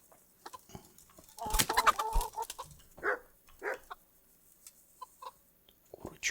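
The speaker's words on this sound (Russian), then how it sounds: "Курочка." A chicken in the Kingdom Come Deliverance video game clucks in short irregular bursts at close range, quiet overall, with a few sharper squawks near the start.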